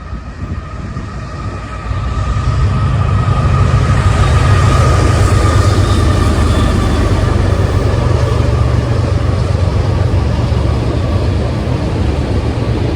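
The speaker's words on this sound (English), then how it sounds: "Lots of coal on that train." A heavy coal freight train rumbles past close by, a loud continuous low roar with grinding wheel noise that holds steady after building up at the start.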